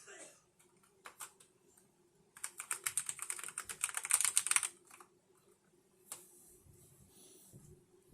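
Fast typing on a Pulsar Nova Pro optical linear keyboard, a dense burst of rapid close key clacks after a few scattered presses, with faint voices briefly in the background.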